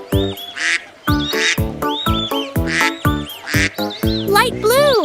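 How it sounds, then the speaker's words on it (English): A cartoon mother duck quacks repeatedly in a children's song, loud rhythmic quacks with a bright sung melody and a rising bird-like whoop near the end. "Mother duck said Quack, quack, quack, quack."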